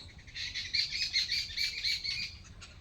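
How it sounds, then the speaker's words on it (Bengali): Several birds chirp in quick, repeated bursts of high tweeting, fairly close and steady over a quiet low background rumble. "পাখিগুলো কিচিরমিচির করতেছে"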